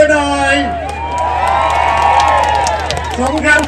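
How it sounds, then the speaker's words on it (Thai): A large crowd at a political rally in Phichit province erupts in loud cheering and whooping, voices shouting together over a continuous wash of crowd noise, close and sustained for several seconds. "ปรบมือหน่อย"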